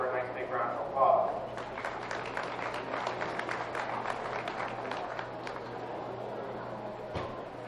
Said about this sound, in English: Let's give her a nice big round of applause